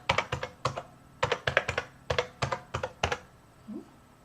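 Fingers tapping out a username and password on a computer keyboard, delivered as short bursts of crisp, close key clicks separated by brief pauses.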